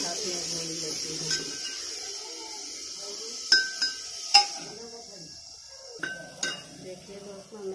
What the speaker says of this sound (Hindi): प्याज और मसाला एक साथ में भून लेती हूँ।